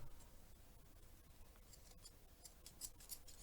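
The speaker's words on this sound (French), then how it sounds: "qu'est-ce qu'ils vont bien ces ciseaux" Scissors snip through ribbon at a crafting table, a few faint, quiet crisp cuts and blade clicks close by, with light rustling between them and no speech.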